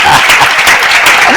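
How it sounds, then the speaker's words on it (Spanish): Loud, close audience applause fills the whole short stretch, many hands clapping at once, with some voices mixed in. "realmente a ellos merecen un aplauso"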